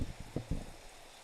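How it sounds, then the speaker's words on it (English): Real rain falls outside, a soft, steady patter with a few louder drops and knocks near the start, heard faintly in the background of an indoor room. "That's real rain from outside."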